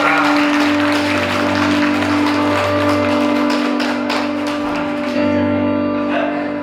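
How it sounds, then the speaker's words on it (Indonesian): Guests at a Batak wedding blessing applaud, their clapping carrying over a loud sustained musical drone with steady low tones. "Boleh tepuk tangan."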